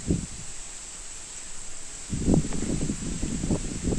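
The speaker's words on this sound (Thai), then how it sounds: "โอ้ลมแรงมากครับ" Strong wind gusts through the leaves of young durian trees in a sandy-soil orchard in Yasothon, a low steady rustle that swells into louder, rougher bursts in the second half.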